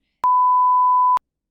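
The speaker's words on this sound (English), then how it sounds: "Beep." A single steady electronic beep of a pure, even pitch lasts about one second, loud and clean against total silence.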